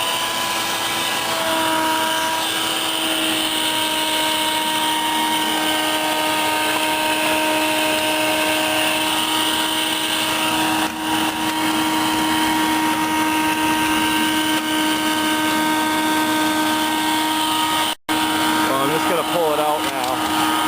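A vacuum cleaner runs steadily while cleaning out a pellet stove chimney, a loud continuous motor whine with stable pitch throughout, one brief cutout near the end, and speech faintly underneath.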